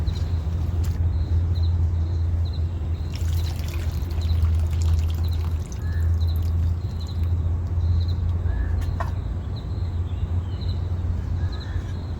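Water swishes and sloshes steadily in a basin as pumpkin-vine greens are rinsed, with a low constant hum underneath.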